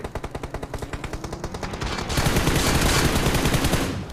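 Automatic gunfire rattles in the BGMI video game, a fast, even string of sharp shots that gives way to a denser, overlapping burst of fire, loud and close.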